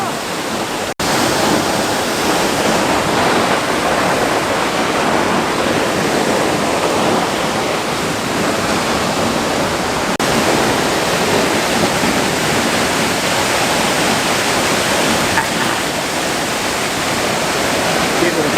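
Loud, steady roar of water pouring over a large waterfall, dense and continuous throughout with no breaks, close enough to feel the spray.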